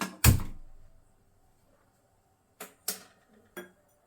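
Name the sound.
pan placed on the stove, clinking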